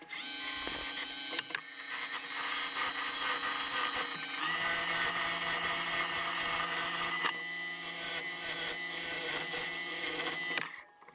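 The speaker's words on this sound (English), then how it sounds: "I'm using a square-tipped carbide tool that really hogs out the material" A wood lathe spins a blank round while a square-tipped carbide tool hogs out material, producing a steady high whining drone with shifting tonal layers that holds for about ten seconds, then cuts off abruptly.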